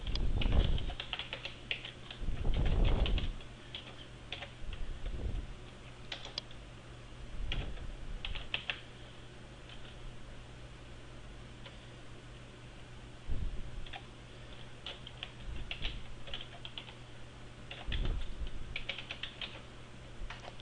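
Keys on a computer keyboard are typed in irregular bursts of clicks and taps while a Windows XP product key is entered, faint and close against a quiet room hum.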